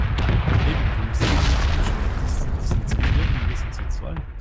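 A grenade goes off in a combat video game, giving a broad booming burst amid a dense wash of gunfire and battle noise, with a voice talking over the mix.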